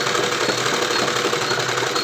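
A sewing machine runs continuously and close up while stitching two layers of blouse fabric together, a steady loud mechanical whirring hum with no pauses and no talking.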